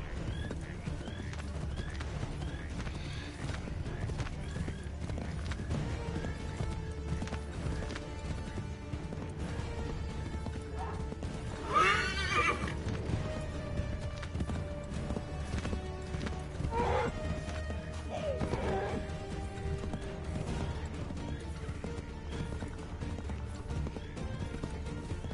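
Horse hooves clip-clop at a steady gallop in the Assassin's Creed 3 video game, with a couple of neighs and whinnies rising over game music and ambience, loud and close throughout.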